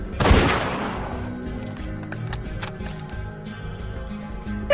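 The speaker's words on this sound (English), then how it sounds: "the Torg brand boomstick can shoot 6 rockets at once" A Torg brand boomstick fires a loud volley of rockets in a Borderlands-style game, a sharp blast up front followed by a dense rattle of booming impacts and mechanical clatter, with no voices over it.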